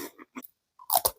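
Crunchy chocolate wafer biscuits are bitten and chewed close to the microphone, a few sharp, crisp crunches in quick succession separated by brief silences, with no talking.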